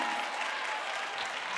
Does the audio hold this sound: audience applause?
yes